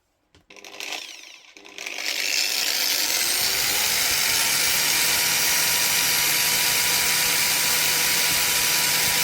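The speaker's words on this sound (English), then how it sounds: "Let's try my grinder." An electric grinder aboard a narrowboat on the River Trent starts after a few brief knocks and then runs with a loud, steady high-pitched whine that fills the rest of the clip.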